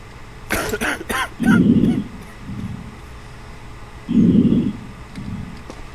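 Two bursts of deep, rough coughing from a sick character in the video game Quarantine Zone: The Last Check, each followed by a softer cough, with brief vocal sounds at the start over a low background hum.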